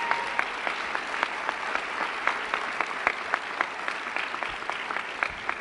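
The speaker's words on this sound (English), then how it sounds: "you bet it's all right to clap because that is a big deal" Audience applause at a commencement ceremony, steady moderately loud clapping with distinct individual claps popping out in a continuous, slightly uneven rhythm throughout.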